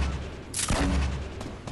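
Gunfire in Fortnite aimed at an enemy base: a loud sharp blast with a booming tail, then a fainter second shot near the end, with no talk.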